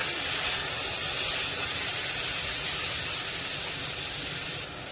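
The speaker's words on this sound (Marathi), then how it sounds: "आता दुसऱ्या बाजूने देखील यांना 5 मिनिटं फ्राय करून घ्यायचं आहे" Pomfret fish, coated in a green masala, frying in a pan in the Agri style, giving a steady, loud broadband hiss that holds evenly throughout and softens slightly at the very end.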